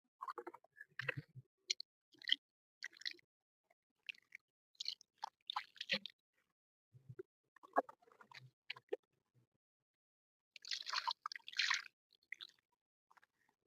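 Water is poured onto a freshly repotted fig plant in a tub in a terrace garden, making soft, close splashes, drips and squishy soil sounds in irregular bursts with quiet gaps between them. No one talks.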